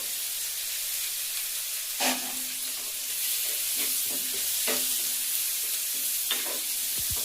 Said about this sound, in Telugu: బాగా ఫ్రై అయ్యే వరకు వేగించాలి.